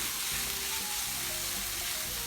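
Garlic sizzling in a Lodge cast iron skillet while making shakshuka, a loud, dense, continuous hiss of frying heard up close with no talk.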